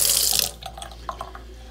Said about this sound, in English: So here at the wet bar we have hot and cold running water.